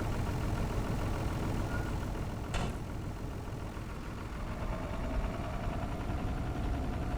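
A tractor engine running steadily while plowing a field, a continuous low rumbling drone, moderately loud with a brief clank partway through and no talking.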